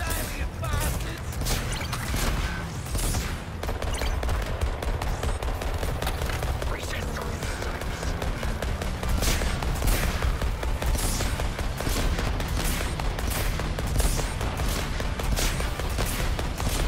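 Dense, continuous gunfire from the Suicide Squad video game, with rapid overlapping shots and bursts throughout, loud and close, mixed with other game effects and occasional voices.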